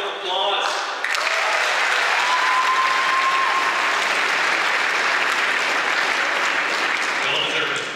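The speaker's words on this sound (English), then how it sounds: "let's give ourselves another round of applause" Loud, sustained applause from a large crowd at a 2019 high school graduation ceremony fills the room, steady clapping that swells and continues without pause.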